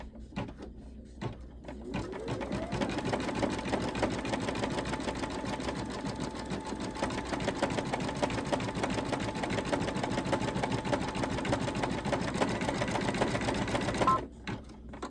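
A sewing machine stitches an Easter bunny table runner in one long, even run of rapid mechanical chatter, close and steady, then stops abruptly near the end.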